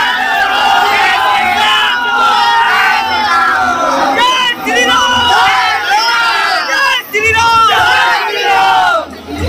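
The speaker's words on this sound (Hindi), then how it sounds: "यहाँ पे जय श्री राम का पूरा नारा लगा रहा है" A dense crowd at a puja pandal loudly chants the Jai Shri Ram slogan in repeated rising shouts, many voices layered together, continuous and close throughout.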